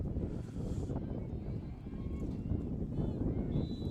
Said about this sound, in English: It is cold and brutally windy.